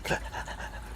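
A dog pants in quick, breathy bursts at close range in a home, with a soft whimpering edge and no talk.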